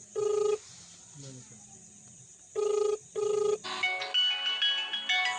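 Telephone ringtone sounding in bursts, a short ring near the start and two more a few seconds later, fairly loud in a quiet domestic comedy scene, with a brief voice between and musical tones after.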